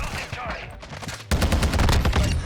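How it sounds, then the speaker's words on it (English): A SCAR-style TAQ-V rifle in Modern Warfare 2 fires a sustained, loud burst of rapid close-range shots, preceded by a brief quieter stretch with other gunfire and game sounds. "I'm outgunning these guys at close range with this SCAR, or TAQ V, I should say."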